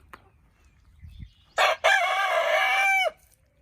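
A rooster crows inside a chicken coop, one loud, close cock-a-doodle-doo with a short opening note and a long sustained call, following a few quiet clucks and rustles.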